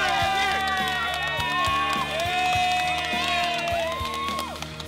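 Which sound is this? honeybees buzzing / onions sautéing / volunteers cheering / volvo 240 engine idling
volunteers cheering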